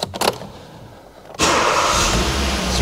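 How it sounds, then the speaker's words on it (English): A 2013 Kia Rio with a 1.25 petrol engine is cranked briefly after a few clicks, then fires and settles into a steady, loud idle, close to the car. "It starts up, no problem."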